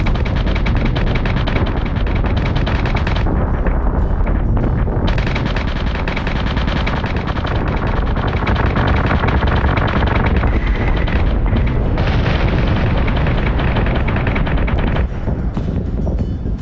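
Dense, relentless space-battle combat from the Battlestar Galactica Deadlock video game: rapid machine-gun fire and repeated heavy explosions overlap continuously, loud and close, with barely a pause throughout.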